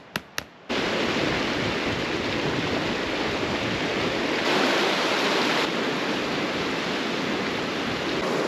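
A mountain river rushes in a continuous loud, broadband roar on the Berg Lake Trail in Canada, steady throughout after a couple of brief clicks at the start.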